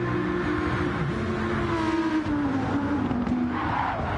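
An Audi V10 race car engine roars steadily in a racing video game, with a sustained droning note that rises and dips slightly over a few seconds, loud and close, with a hint of tyre noise.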